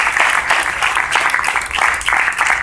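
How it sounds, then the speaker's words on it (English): An audience claps steadily and loudly for the student volunteers at a hypnosis show, a dense, continuous wash of applause with no break. "When I have these guys give you some applause"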